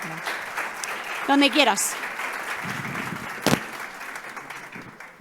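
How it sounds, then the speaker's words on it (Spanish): Audience applause for a panelist at a panel discussion: a continuous hiss of clapping runs through the clip, moderate and fairly even, while a few words are spoken over it and a sharp knock stands out partway through. "Un aplauso para ella, por favor."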